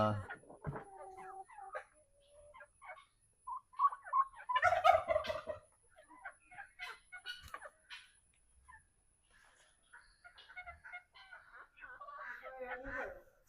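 Bursts of rapid, warbling gobbles from a turkey hen rise and fall nearby, mixed with other fowl calls and scattered voices in the background.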